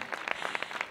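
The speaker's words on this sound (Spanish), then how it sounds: "dar un fuerte aplauso" Scattered hand claps from a concert audience at a copla show in Castilleja de la Cuesta, quiet and distant, a brief patter of applause.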